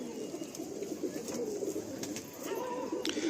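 Andhra Kalanka pigeons coo softly and steadily at close range, their low murmuring calls continuing throughout with faint background noise.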